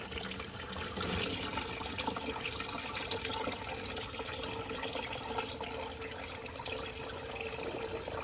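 Coolant draining from the radiator of a 2015 or later Subaru WRX, a continuous close splashing trickle of liquid pouring into a bucket, steady throughout.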